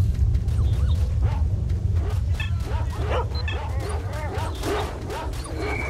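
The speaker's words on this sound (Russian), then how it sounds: "Так, еще собаки напали." Dogs barking, yelping and whimpering as they attack in the video game S.T.A.L.K.E.R.: Shadow of Chernobyl, a dense, continuous flurry of close barks over loud rumbling game noise.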